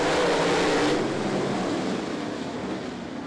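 Modified race cars at Ponderosa Speedway roar together at the start of a heat race, a loud dense engine drone that fades slightly as the pack moves away.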